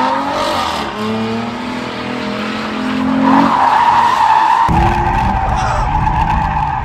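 Kawasaki KX 250 dirt bike, a 2022 model, revving hard during a wheelie: a loud, close engine whine rising in pitch, then a sharper high-revving burst with rough low roar toward the end.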